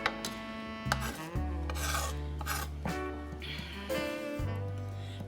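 Soap or wax is rubbed across an old metal kitchen grater in repeated rasping strokes, close and fairly quiet, with a few clinks of metal between passes and no voices.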